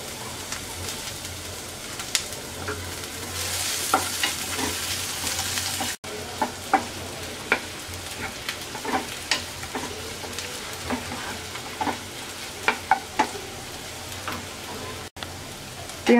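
Onion and garlic fry lightly in mustard oil with a continuous close sizzle, broken by frequent ticks and clinks of stirring. The hiss is louder in the first few seconds.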